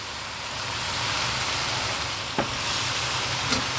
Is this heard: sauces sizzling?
yes